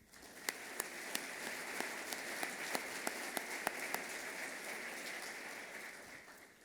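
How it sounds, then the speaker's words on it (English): Scattered, fairly faint applause from a conference audience at a CEO summit in West Michigan, sounding thin and distant, with sharp individual claps standing out over a steady hiss for several seconds. "Let's give them a round of applause."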